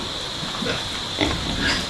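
Pigs on a rural farm grunting in irregular low bursts over a steady background hum, moderately close, with a slightly louder cluster of grunts midway.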